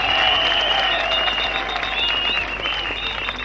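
A congregation at a crusade in Mbouda applauds together, a loud, sustained wash of clapping from a large crowd, with faint tonal sounds above it.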